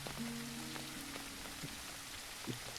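Light rain patters steadily across the ground in the Leaf Blower Co. video game schoolyard, a soft continuous hiss with scattered drop taps and faint low tones underneath.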